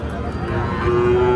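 A young native calf moos with a long, steady low call at a busy livestock market, the crowd noise and murmur of people filling the background.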